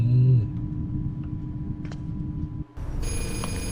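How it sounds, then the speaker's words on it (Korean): Telephone ringing inside a Korean horror game about a cursed camera: a bright, buzzing ring that begins near the end of the clip, loud and close, after a brief low tone and some dull background noise. "전화 온다"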